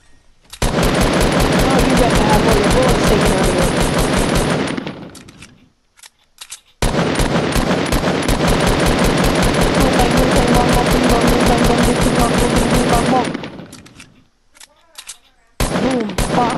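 Sustained automatic assault-rifle fire in Fortnite, two long loud unbroken bursts of rapid shots, each trailing off, followed by a few scattered single shots near the end.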